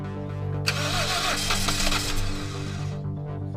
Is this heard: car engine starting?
yes